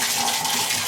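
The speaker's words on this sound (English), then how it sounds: "Here is the shower head. It is a Speakman AnyStream type shower head." A Speakman AnyStream shower head runs in a hotel bathroom, giving a steady, loud hiss of spraying water that fills the short moment with no voices.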